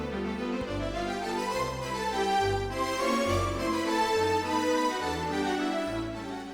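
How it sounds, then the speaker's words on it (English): The strings voice of a Yamaha P-145 digital piano plays slow sustained chords over a gentle bass line, smooth and mellow with no voices. "what you're hearing right now is the strings voice"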